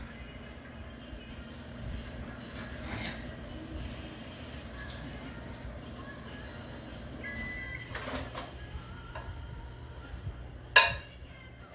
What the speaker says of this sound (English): 10 seconds in the microwave.